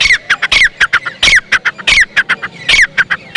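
Loud, constant squawking and chattering of many caged birds at a Sunday bird market in Saddar, Karachi, with dense overlapping calls close by and no talk.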